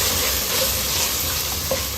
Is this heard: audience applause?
no